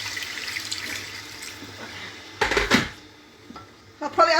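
Water runs from a tap into a kitchen vessel during kofta curry cooking, a steady close stream with a louder gush partway through, amid light clatter of pans and utensils.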